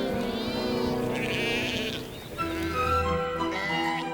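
Sheep bleat continuously, several overlapping wavering cries from a flock of domestic sheep, loud and close with no talking.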